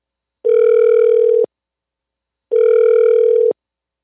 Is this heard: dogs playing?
no